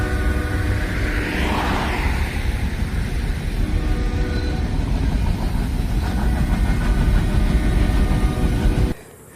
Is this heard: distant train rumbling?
yes